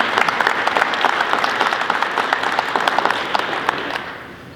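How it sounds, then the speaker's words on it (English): Sustained crowd applause outdoors on a sunny winter morning at Knox Central, dense and steady for several seconds before tapering off near the end. "Let's give them all a big hand."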